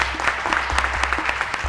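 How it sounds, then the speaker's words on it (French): Studio audience on a Moroccan TV show clapping together, a brief burst of dense, close applause with sharper individual claps standing out. "On l'accompagne en applaudissant."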